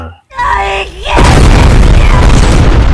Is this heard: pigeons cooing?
no